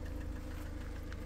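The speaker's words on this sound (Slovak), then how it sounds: "Klepká to jak strašné." A Ford Kuga engine with a fault knocks as it runs, a low, steady rumbling with faint rapid ticking underneath, heard close and fairly quietly with no talk.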